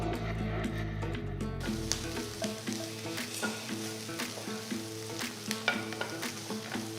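Radish, onion and coconut pieces fry in a pan while being stirred, a continuous sizzle with frequent clicks and scrapes of the spoon, preceded by a low hum in the first seconds, close with no talk.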